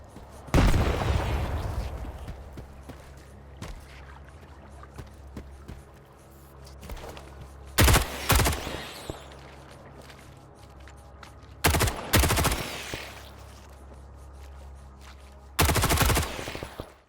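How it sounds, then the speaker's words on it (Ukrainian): Combat in the video game S.T.A.L.K.E.R. 2, with a grenade explosion and bursts of pistol gunfire: several sharp, loud shots and blasts recurring every few seconds over a low ambient rumble. "було б доречно кинути в них гранату і після цього розібратися вже пістолетом з тими,"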